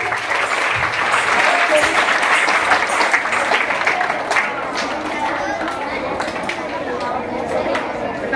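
Students at a Bharatanatyam workshop applaud the dance drama performers, loud, sustained crowd clapping that swells early and then settles a little, with chatter and voices mixed in under it.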